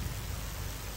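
Rain pours steadily in the video game STALKER Clear Sky, a dense even hiss with a low rumble and no break, alone.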